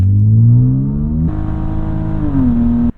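A 1997 BMW E36 M3 with an automatic transmission revving loudly up close, the engine note climbing, dropping and then holding a steady high drone before cutting off abruptly.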